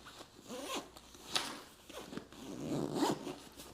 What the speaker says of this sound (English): you zip it up